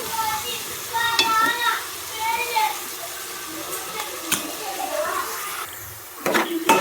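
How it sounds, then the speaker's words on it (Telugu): Onions and curry leaves fry in a pan while being stirred, with a crackling sizzle and spoon knocks close by. A voice talks over the cooking. "ఒకసారి కలిపిస్తాను బ్రౌన్ కలర్ వచ్చే వరకు ఆనియన్స్ మొత్తం వేగించేయాలి"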